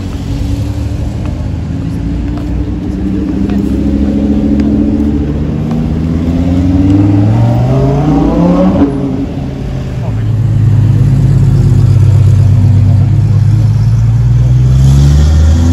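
A Lamborghini Revuelto and a Porsche GT4 RS accelerate through Monaco, loud engine notes rising in pitch through gears with a swelling, throaty roar as they pass, while someone talks over them.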